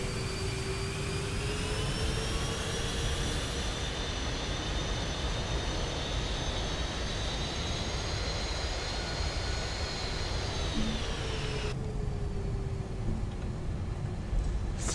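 Jet engines of a TAP Portugal Airbus A330-200 in Microsoft Flight Simulator 2020 give a steady, loud, even roar with a high whine running through it, and no talk over it.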